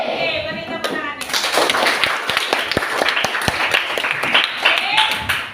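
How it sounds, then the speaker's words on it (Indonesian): Children clapping their hands in a classroom, a burst of scattered, uneven claps with taps and children's voices mixed in, following a teacher speaking. "Oke, beri tepuk tangannya."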